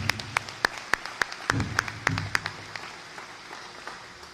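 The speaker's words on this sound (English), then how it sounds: "You deserve a big round of applause." Scattered applause from a university-related audience at a speech by the Illinois governor, a handful of sharp, distinct claps standing out over a quieter murmur of clapping that fades out after a couple of seconds.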